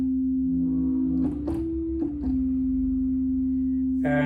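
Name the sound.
Sequential Take-5 synthesizer sine wave with oscillator 2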